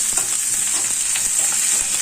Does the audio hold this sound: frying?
yes